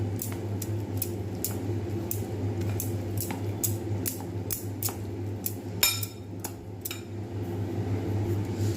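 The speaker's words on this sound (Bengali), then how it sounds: "এতেই আমি রুম টেম্পারেচারের জল ব্যবহার করব। আমি এটাকে ভালো করে ব্যাটারটাকে তৈরি করব।" Patishapta batter being mixed with room temperature water in a bowl, a steady series of soft rhythmic scraping and tapping strokes over a constant low kitchen hum, with no talking.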